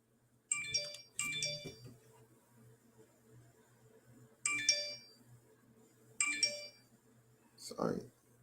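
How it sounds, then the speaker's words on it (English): Mobile phone ringtone going off indoors during a livestream, a bright chiming melody repeating in short bursts with gaps between, fairly close, followed by a brief low sound. "Sorry, phone's going off."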